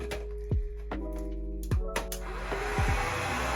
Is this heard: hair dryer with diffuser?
yes